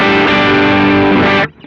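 An electric guitar played hard through a BOSS OD-3 overdrive pedal: one loud, thick distorted chord rings out for over a second, then stops abruptly, leaving a faint tail.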